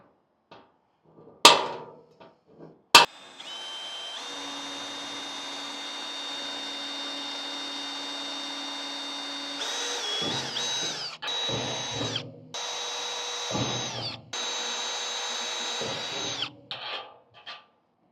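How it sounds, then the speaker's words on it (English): A power tool drills through a trailer tongue box on an M416 overland trailer, a loud steady whine lasting several seconds, then stopping and restarting in short bursts, preceded by a couple of sharp knocks. "Gonna be using this tool to punch it through so I can see it from the other side."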